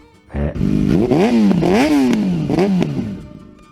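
A motorcycle engine revs up and down several times in quick succession, loud and close, its pitch rising and falling with each twist of the throttle.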